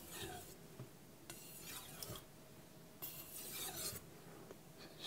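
Repeated knife strokes across a Naniwa Pro 1k sharpening stone, a handful of close, raspy scraping passes in an alternating rhythm with short pauses between them, heard alone with no talking.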